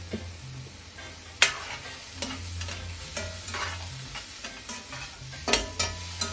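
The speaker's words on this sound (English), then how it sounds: "So again, we're wanting to fry these to make them dry." Black bean and bella mushroom burger mixture frying in a pan, a steady close sizzle broken by a few sharp scrapes and stirring knocks, with no talking.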